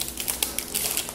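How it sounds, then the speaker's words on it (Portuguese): Rapid light taps on an iPhone's on-screen keyboard, a quick uneven run of soft clicks close to the device, with no talking. "vou digitar atalho"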